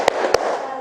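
Students in a classroom clap in unison during a rhythmic call-and-response clap chant, giving two sharp, closely spaced claps with a short ringing tail in the room.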